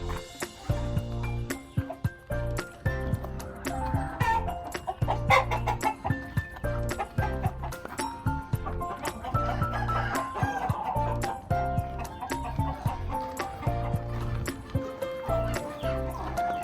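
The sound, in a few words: chickens clucking at a farm coop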